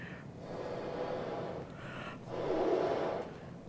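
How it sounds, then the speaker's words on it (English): Breathy rushing air blown through a French horn without any lip buzz, two soft hissing gusts with no pitch, faint and close. "if I were to only blow air through my horn"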